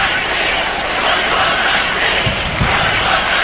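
Crowds from both cheering sections at a 2008 Penn State versus Stanford volleyball match chant together, a loud, continuous, massed roar of voices filling the arena.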